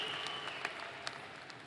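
Commencement audience applauding the graduates, a short stretch of dense clapping from a large crowd heard at moderate distance, fairly soft and even with a few sharper claps standing out.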